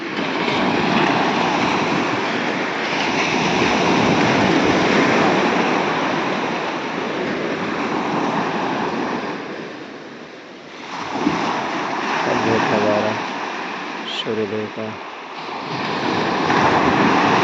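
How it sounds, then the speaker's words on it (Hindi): Sea waves surge and break on the shore at sunrise, a loud continuous wash of surf with wind buffeting the microphone, easing briefly near the middle before rising again. "समुद्र की लहरें किलकारियाँ मारते हुए।"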